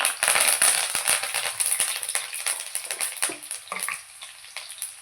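Onions and curry leaves frying in a pan, a loud, crackling sizzle with sharp pops and stirring scrapes, strongest at first and gradually settling to a softer hiss.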